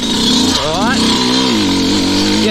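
A two-stroke Sherco 125 dirt bike climbing in second gear, its engine buzzing loud and close, rising sharply in pitch then settling into a steady drone, with someone speaking briefly over it.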